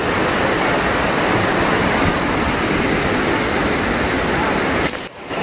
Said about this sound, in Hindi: भाई इस झरने का क्या नाम है? आंबोली दबदबा।